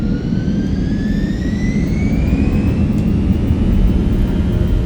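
Simulated airliner jet engines at full power in Microsoft Flight Simulator 2024, a heavy, steady roar with a thin whine climbing gradually in pitch, loud and close with no voices over it.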